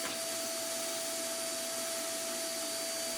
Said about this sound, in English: to vacuum off the dust